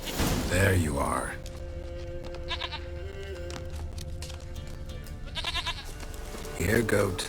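A goat in The Witcher 3 bleats in loud, wavering cries at the start and end, with quieter calls between over low game ambience and soft thumps.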